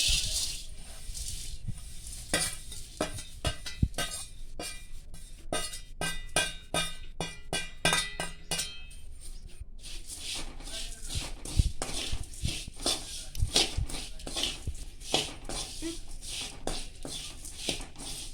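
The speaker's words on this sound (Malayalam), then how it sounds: "നമുക്ക് അവൽ വറുത്തെടുക്കാം." Dry rustling and rattling of flattened rice (avil) being stirred and tossed in a hot pan over medium flame, with quick repeated scrapes throughout.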